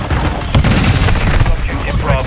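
Gunfire in the Call of Duty Modern Warfare 2 multiplayer game: a dense, loud, continuous wash of shots and explosions with no clear gaps, with voices heard amid the battle.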